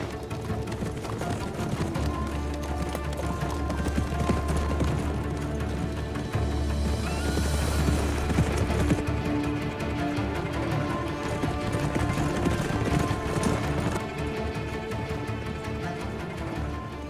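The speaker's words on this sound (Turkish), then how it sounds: "Atlar!" Horses gallop through a dramatic period scene, a steady run of hoofbeats clip-clopping under a continuous bed of music and ambience, with no pause through the stretch.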